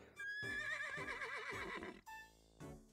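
A horse in the Miitopia video game gives a long, loud wavering neigh, followed by a shorter whinny, with game music tones in the background.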